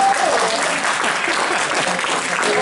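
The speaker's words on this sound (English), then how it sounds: "Give me a real good hand of applause" Loud, dense applause from a seminar audience in a hotel meeting room, steady and sustained throughout with a few scattered cheers mixed in.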